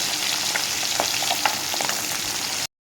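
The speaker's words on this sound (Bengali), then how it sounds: "মাছগুলো ভাজা হলে আমি উল্টে দেবো" Tengra fish sizzle in a pan of hot oil as they are turned, a dense, close crackle with a few brighter spatters and a clink near the middle, then an abrupt cut to silence just before the end.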